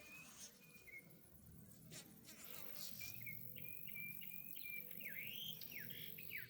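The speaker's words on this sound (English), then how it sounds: "Look at this bee going after my Julia Child rose." A bee buzzes around a Julia Child rose in a pollinator garden, a close wavering drone that rises and falls as it moves, with faint bird chirps in the background.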